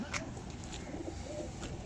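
Kasuri pigeons cooing softly at a breeder's home, a low continuous murmur of coos with faint chirps over steady background noise, a voice talking now and then.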